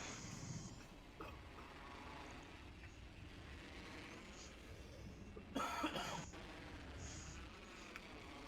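A single short burst of coughing breaks through a faint, quiet background murmur, with a softer throat sound earlier and no speech.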